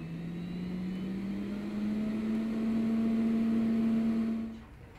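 A laboratory centrifuge spins blood samples at 13,300 RPM. Its rotor hum rises steadily in pitch as it speeds up, holds as a loud, even whine, then fades out.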